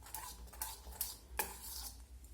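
A spoon scrapes and swishes through rice flour batter mixed with water for bhapa pitha. About four quiet, separate stirring strokes come close up in a calm kitchen.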